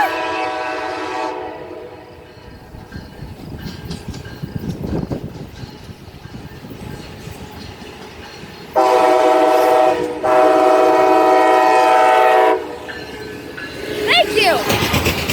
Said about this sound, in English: tell him to honk the horn so we can get in our horn salute.